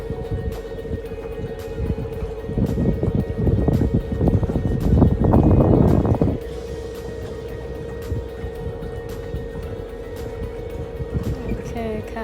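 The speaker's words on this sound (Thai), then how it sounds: "มาค่ะทุกคนมาล่องเรือกันนะคะ" Small boat cruising on a lake at Rust, Austria, with steady low wind and water noise throughout and a louder rushing burst near the middle; someone talks over it at times.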